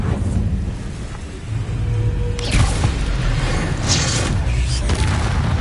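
The Confringo fire spell explodes in Hogwarts Legacy on PS5: a deep booming burst hits midway through rumbling game ambience, followed by further rushing blasts.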